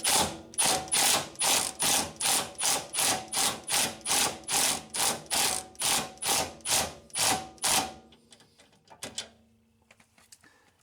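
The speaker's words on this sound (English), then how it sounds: "I'm just going to take my impact and snug this up." A power impact wrench runs a lock nut down onto a Honda Accord compliance bushing, firing about fifteen loud rapid hammering bursts in an even rhythm before stopping, followed by faint tool handling.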